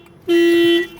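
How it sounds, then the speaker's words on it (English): A Toyota Corolla's car alarm gives a single loud, steady electronic tone lasting about half a second, starting abruptly and then cutting off, close and clear with no talking. "So here's what I'm gonna do to deal with this alarm problem"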